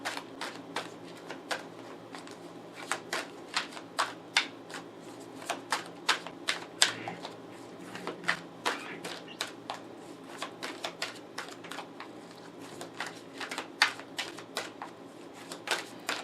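Tarot cards are handled and laid out on a table, giving a scattered series of soft close snaps and taps, with a faint hum underneath and no talk.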